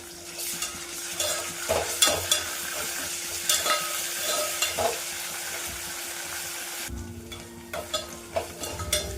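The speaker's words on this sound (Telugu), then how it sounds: "అల్లం వెల్లుల్లి పేస్ట్ పచ్చివాసన పోయే వరకు వేయించుకుందాము" Ginger garlic paste fries with onions in oil in a pan, a close steady sizzle with recurring spoon scrapes and taps as it is stirred, the hiss briefly thinning near the end.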